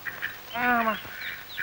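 A duck gives one clear, drawn-out quack in the middle of the clip, with faint, thin calls before and after.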